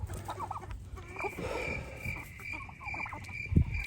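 Free-range backyard chickens cluck and murmur close by in short soft bursts, with a faint steady high whine in the background and a brief low thump near the end.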